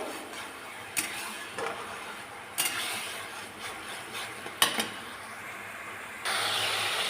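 Coconut milk boils down into homemade coconut oil in a pan, a soft sizzling crackle broken by a few sharp spoon scrapes and clinks from stirring, with no voices.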